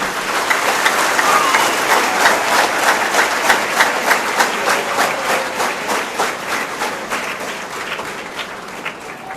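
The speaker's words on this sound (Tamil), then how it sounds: "பலத்த கரகோஷம்." Loud applause from a large student audience in a college auditorium, the clapping rising in repeated rhythmic pulses and staying strong and sustained for the whole stretch, with no speech over it.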